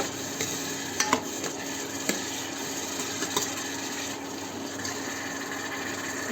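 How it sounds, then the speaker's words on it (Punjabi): Onions with tomato and ginger stirred in a pan, giving a steady close sizzle with a few scraping knocks of the spoon, no talk. "ਪਿਆਜ਼ਾਂ ਨੂੰ ਥੋੜਾ ਜਿਹਾ ਆਪਾਂ ਭੁੰਨਾਂਗੇ ਸਾਰਿਆਂ ਨੂੰ ਜਿਹਨਾਂ ਦਾ ਕੱਚਾ ਪਾਣੀ ਦੂਰ ਹੋ ਜੇ"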